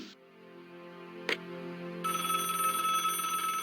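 A telephone rings in the Broken Sword: Shadow of the Templars Director's Cut point-and-click game, a clear electronic ring starting after a short click and holding steady to the end, alone with no talk.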